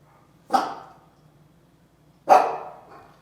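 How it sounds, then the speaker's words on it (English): Two loud dog barks, a couple of seconds apart, close by, with quiet in between. "Don't mind my dogs."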